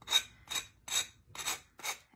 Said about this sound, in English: I'm just going to use my sanding block